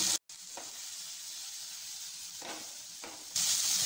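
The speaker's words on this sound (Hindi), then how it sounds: "इन सारी चीज़ों को हाई फ्लेम पे हम सौते करेंगे" Corn kernels and chopped vegetables sizzle and hiss as they sauté over a high flame, a continuous frying crackle broken by brief stirring pauses and a louder burst near the end.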